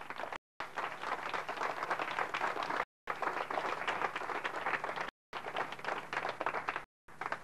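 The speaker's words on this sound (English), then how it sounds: "Give him a nice round of applause." Applause from an audience at a live magic show, as a dense, loud, continuous clapping broken by several sudden short cuts to silence.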